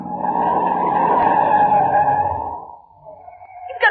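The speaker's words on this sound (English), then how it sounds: "I'm shoving the brakes on hard." Car tyres skid and squeal under hard braking in a radio drama scene, a loud sustained screech lasting over two seconds before fading, then a brief sharp noise at the end.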